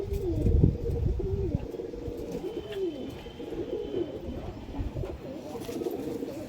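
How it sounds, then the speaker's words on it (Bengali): Desi high flyer pigeons coo in repeated low rolling calls, several birds close by and overlapping, with a little rustling, steady throughout. "এইসব পায়রা এখন দেখাই যায় না, দেশি হাই ফ্লায়ার।"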